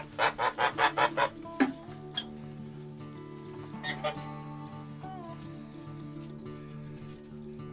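Geese honk inside a winter hut on a Canadian farm, a rapid run of loud close honks followed by a few scattered calls, with a steady low hum underneath and a person talking.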